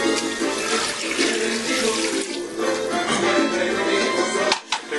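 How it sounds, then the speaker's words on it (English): Water pouring steadily into a pot of rice mixed with orange-coloured sofrito for arroz con gandules, a loud continuous splashing rush that cuts off abruptly near the end. "And I'm going to put my water in."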